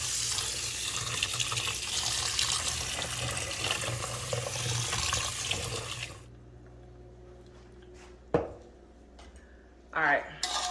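Tap water runs steadily into a rice cooker pot in a kitchen, a full continuous rush that stops partway through, followed by a couple of brief clunks and splashes.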